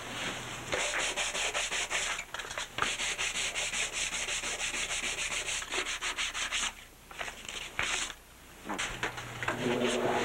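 Close hand sanding of a surfboard ding repair with 120 grit sandpaper, rhythmic rubbing strokes that stop and restart a few times.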